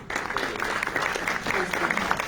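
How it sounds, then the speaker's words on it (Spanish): Audience applause at a Spanish-language cultural event for the International Day of the Spanish Language, dense, continuous clapping held at steady volume, with a voice faintly audible underneath. "un gran aplauso"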